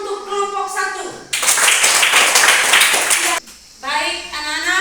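A classroom of children breaks into a loud burst of clapping for the first discussion group, lasting about two seconds, with a teacher's voice speaking just before and after.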